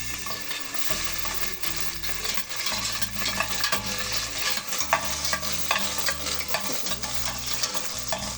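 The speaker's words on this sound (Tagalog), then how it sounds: "Gigisa naman natin yung ating mga rekado. So, unahin natin yung sibuyas." Onion sautés in cooking oil with a constant close sizzle, overlaid with repeated rhythmic scraping and stirring strokes against the pan.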